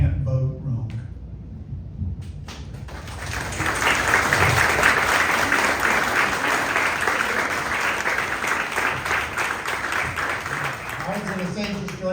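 After brief talk, an audience at a town candidate forum breaks into a long, full round of applause for the candidates, loud and steady before it fades under a speaking voice.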